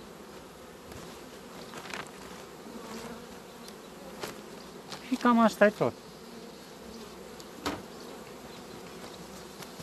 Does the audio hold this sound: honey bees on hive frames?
yes